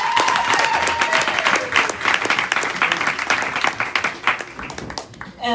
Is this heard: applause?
yes